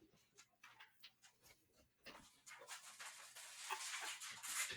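A dog whines and whimpers just beyond a closed door, wanting to be let inside; short, thin, high cries come in a broken series, getting louder and more insistent over the last couple of seconds.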